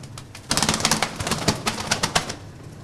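Tumbler pigeons coo in repeated soft, throaty calls, close and fairly loud, with wing flutters and bird movement around them, no talk.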